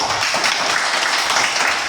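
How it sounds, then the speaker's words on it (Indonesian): A group claps their hands together in a steady, dense patter during a coaching session, the sound close and sustained throughout. "Coba tepuk tangan"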